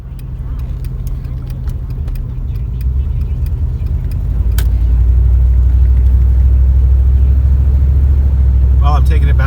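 A 1975 Pontiac Grand Prix with a 455 V8, a barn find on its first drive in 25 years, runs with a steady low rumble that grows heavier partway through, with faint ticking over the drone.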